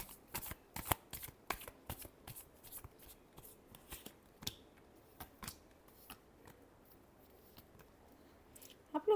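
Tarot cards shuffled close up: a quick series of crisp riffling snaps and slaps, irregular but steady, quiet with faint room noise between them.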